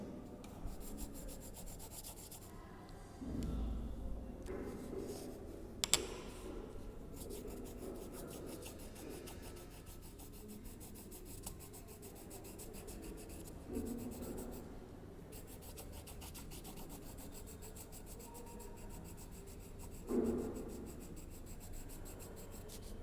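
A pencil rubs over paper laid on a coin, giving a soft, continuous scratchy rasp in repeated strokes with brief pauses; no one speaks over it.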